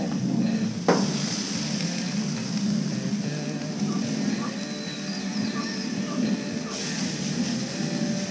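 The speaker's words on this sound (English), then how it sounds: "That's what you want to hear, is that sizzle." Steady broadband sizzling hiss of sirloin steak searing on a hot pellet smoker grill, continuous and fairly loud throughout, with a faint murmur of voices underneath.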